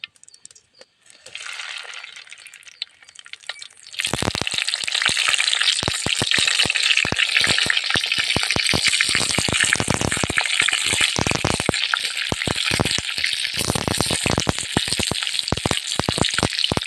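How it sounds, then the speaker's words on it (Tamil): Brinjal sautéing in hot oil for an oil-brinjal curry: after a few quiet seconds, a loud, steady sizzle and crackle starts and carries on continuously to the end, with sharp spits and pops throughout. "எண்ணெய் ஊற்றி கத்திரிக்காய் போட்டு நல்லா வணக்கிறேன்."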